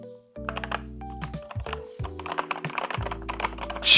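Rapid typing on a new computer keyboard, close and crisp, with quick irregular keystrokes set against a background of steady tones.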